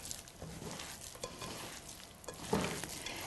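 Hands work a raw meatball mixture in a bowl, giving soft wet squelches and squishes at close range in an otherwise quiet kitchen.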